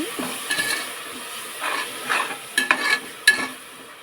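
Tomato paste sizzles softly in a pan for egg biryani while a spoon stirs and scrapes against the metal in several short bursts, with no talking.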